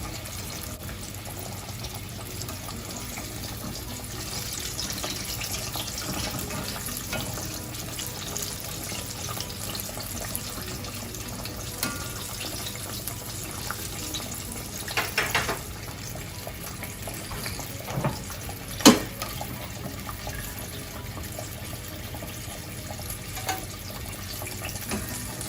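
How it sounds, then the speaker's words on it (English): Green tomato slices fry in hot oil with a constant, even sizzle, punctuated by a few sharper pops and spits in the latter part, no talking. "These are gonna fry about 2 minutes per side."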